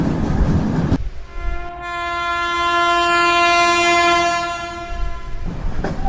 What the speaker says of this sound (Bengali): ঘর ঘরঘড়িয়ে ট্রেন চলছে